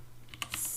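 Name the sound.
typing a file name on a computer keyboard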